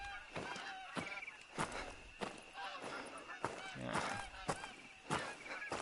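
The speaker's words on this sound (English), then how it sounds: "The skies are just filled with geese right now" Geese honk repeatedly overhead in a hunting video game, a flock calling in irregular bursts at moderate distance, with soft crunching footsteps underneath.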